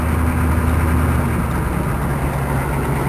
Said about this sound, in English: I'm spinning my wheels like crazy